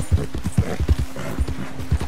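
A horse's hooves clip-clop in Red Dead Redemption 2, with steady, rhythmic thuds close by and a faint background hum beneath them.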